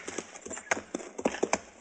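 Horse hooves clip-clop in a steady walking rhythm in an old Western radio drama set in the Gypsum Hills, close and fairly loud, with a few sharper accented hoofbeats.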